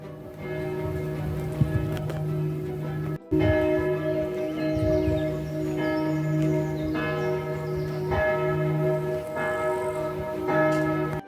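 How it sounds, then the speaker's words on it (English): Church bells at Altenburg Abbey in Austria ring out at noon, a steady, resonant peal that carries on continuously with overlapping tones, close and full, after a brief cut near the start. "The bells are on, which means it's noon."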